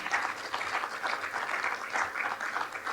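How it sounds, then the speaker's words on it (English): An evening forum audience applauds its panel, a steady burst of clapping from a room full of people that carries on for several seconds without talk. "let's give a round of applause to our panel folks this evening"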